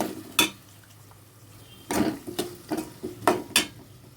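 A spoon stirs potatoes with ginger-garlic paste in a metal cooking pan, giving several sharp scraping clanks in irregular bursts, close and fairly loud, with quiet gaps between strokes.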